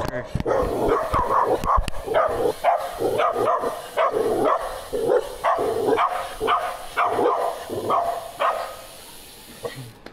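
Dogs bark repeatedly at night in a rough, steady sequence, close by, with some whimpering and yipping mixed in.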